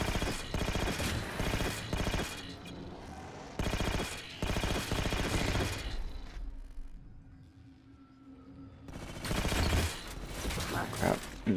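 Bursts of automatic gunfire from shooting enemies in the video game Halo 4, several loud rapid volleys separated by short quieter gaps, with a final burst near the end.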